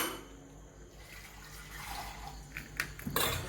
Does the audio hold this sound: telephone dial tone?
no